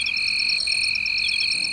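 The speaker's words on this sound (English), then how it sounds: "when you have so many males of multiple cricket species chirping loudly in a forest" Many males of several cricket species chirp together in a forest, making a dense, loud chorus of high, shrill trills and pulsing chirps that runs on without a break.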